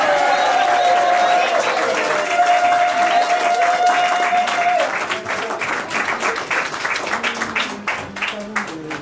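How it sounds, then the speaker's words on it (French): Wedding guests applaud the newlyweds at a civil ceremony in a town hall, with steady, dense clapping throughout, mixed with voices and cheering, and sharper individual claps standing out toward the end. "Vous pouvez les applaudir."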